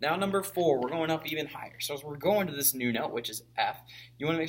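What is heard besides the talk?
No everyday noises stand out.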